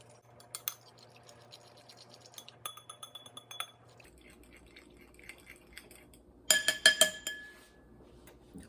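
A fork mixing concha dough ingredients with sugar in a glass bowl, giving light scattered clinks and taps that build into a louder burst of rapid clinking near the end, with no talking.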